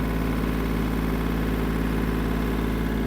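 A Yanmar AF-250 Japanese mini tractor engine runs in super-low gear with a steady, close, even drone and a constant low rumble, with no talk over it.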